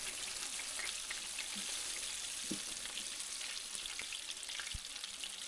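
Bluegill fillets frying in a hot pan give a constant close crackling sizzle with scattered small pops and occasional soft clinks, alone without talking.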